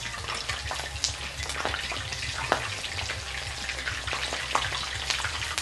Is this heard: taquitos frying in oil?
yes